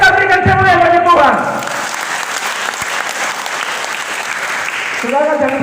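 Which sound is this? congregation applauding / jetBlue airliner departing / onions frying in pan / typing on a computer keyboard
congregation applauding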